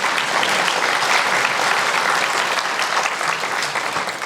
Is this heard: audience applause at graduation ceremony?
yes